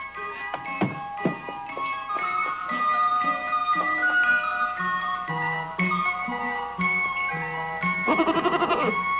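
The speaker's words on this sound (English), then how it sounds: "a female goat that brings milk" A female milk goat bleats, with a shaky, wavering call near the end, heard over a busy orchestral music score with strings and winds that runs throughout.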